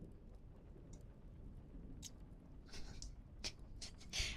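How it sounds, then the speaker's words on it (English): Close ASMR water pouring with soft wet splashes and trickles, building to brighter splashy bursts near the end over a steady low background hiss. "I'm gonna pour water into your ear."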